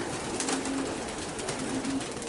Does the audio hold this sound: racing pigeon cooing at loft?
yes